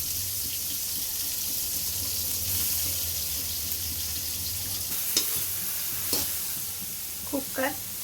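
Steady sizzling of food frying in a pan until golden brown, with a couple of sharp utensil clinks and brief scrapes near the end over a continuous low hiss.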